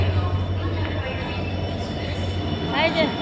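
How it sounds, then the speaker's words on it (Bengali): A train rumbles in as it pulls into a station, a steady low roar under nearby voices, with a brief squeal near the end. "ট্রেন ঢুকে গেছে বন্ধুরা"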